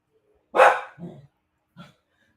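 A dog gives one loud close bark followed by a quieter second woof, then a short soft yip after a pause, with silence around them.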